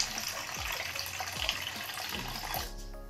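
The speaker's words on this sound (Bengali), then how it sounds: "আমি দিয়ে দিয়েছি পরিমাণ মতো জল, একটু হালকা গরম করে নেব।" Water pours steadily from a tap into a cooking pot to be warmed for making rasgulla payesh, a continuous close splashing gush that cuts off near the end.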